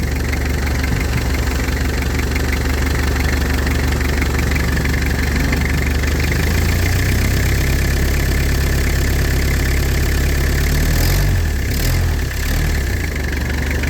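The 2-litre engine of an Isuzu D-Max Mighty-X idles steadily and close by, a continuous diesel knock with a rough, even churn, plus a brief rattle near the end.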